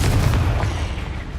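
Confringo spell explosion in Hogwarts Legacy, a single loud, deep blast with a rumbling low end that decays over about a second.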